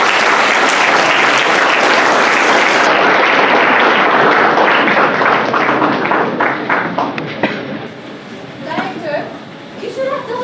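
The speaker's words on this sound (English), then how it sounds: "Let us all welcome them with a huge round of applause" Loud school audience applause at an inter-house play competition, a dense burst of clapping that holds strong for several seconds, then thins out and fades with scattered claps and murmuring voices.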